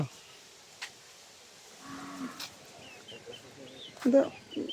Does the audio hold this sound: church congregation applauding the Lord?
no